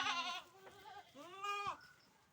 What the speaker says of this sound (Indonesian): banyak sekali sobat kambingnya nih